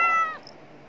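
A house cat gives a single clear meow lasting about a third of a second, close and fairly loud, then fades into quiet room tone.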